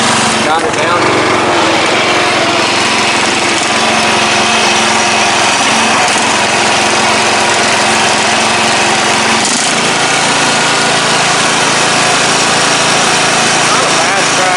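MTD Yard Man riding mower with a 14.5hp Briggs & Stratton engine running, a loud steady small-engine drone held close throughout, with a brief shift in tone partway and voices talking over it.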